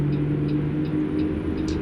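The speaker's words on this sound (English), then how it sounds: "He has all different kinds of engine sounds." A truck engine with a Cummins-style sound mod in American Truck Simulator idles in a steady low rumble with a constant hum, no speech over it.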